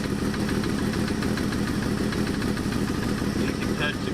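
The engine of a 1984 Dodge Ram D100 runs at a steady idle with a rod knock, heard up close as a continuous rumble under a dense, fast rhythmic knocking.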